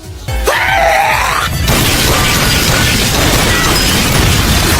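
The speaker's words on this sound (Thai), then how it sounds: "พร้อมกับเสียงระเบิดดังสนั่น" A sudden loud blast bursts in after a brief whooshing tone, followed by a sustained roaring rumble that stays loud to the end.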